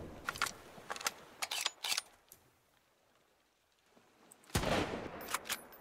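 Guns fire in Sunkenland in sharp separate bursts, several quick shots in the first two seconds, a quiet gap, then a louder blast near the end.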